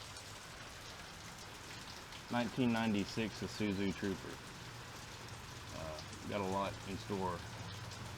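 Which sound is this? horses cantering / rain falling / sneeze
rain falling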